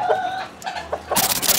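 A bantam hen clucks in short, close bursts, followed by a louder scratchy rustling burst near the end.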